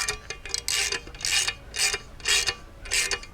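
A flare nut being wrenched tight on the copper line set of a MrCool 24K BTU mini split outdoor unit, heard as a close, repeated ratcheting click in short bursts, with no talk.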